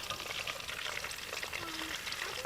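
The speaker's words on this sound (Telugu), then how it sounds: "ఇవన్నీ ఇప్పుడు మంచిగా కాలినవి ఉడికినాయి ఫ్రై అయిపోయినాయి తీసుకుందాం" Pieces coated in gram flour batter, made without egg, frying in hot oil, giving a soft, continuous crackle and sizzle with light stirring, heard quietly and up close.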